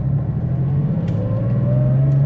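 A Porsche Carrera 3.2 flat-six runs steadily while driving at low revs, a loud continuous rumble with a slow rising tone as it pulls through a gear, close and alone.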